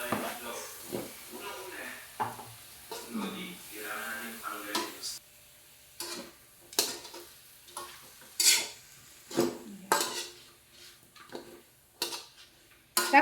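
Onions frying in a pan for a pork estopado, stirred with sharp repeated scrapes and clacks of a utensil over a soft sizzle, close by, with some talking in the first few seconds.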